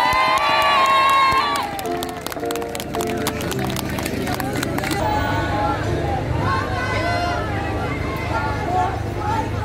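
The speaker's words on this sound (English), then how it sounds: "Nice crowd there." Outdoor crowd at a protest against selling off the forests, a dense babble of many voices with cheering and shouts, loud and steady throughout, with some music-like tones early on.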